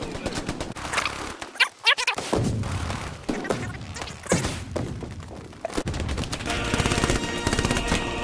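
Gunfire in the World War II shooter Hell Let Loose, loud bursts of machine-gun fire and heavy thumping shots, close and repeated, mixed with brief gaps and voices.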